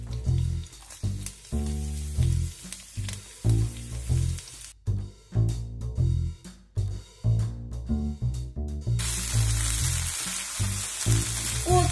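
Shrimp and garlic chives stir-fry in a hot wok, hissing and crackling in bursts between spatula scrapes, with a louder steady sizzle near the end, heard under background music.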